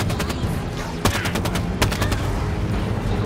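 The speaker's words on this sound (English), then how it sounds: "The Saw is a very fast-firing machine gun." Rapid automatic fire from the Saw machine gun in Halo 5: Guardians, a dense continuous rattle of shots with two louder cracks standing out, loud and close throughout.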